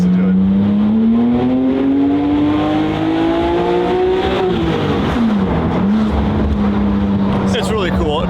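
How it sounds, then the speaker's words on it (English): Loud car engine running close by, a steady idle that rises slightly, dips with a quick rev and settles again, with strong harmonic drone throughout. "Let's listen to it."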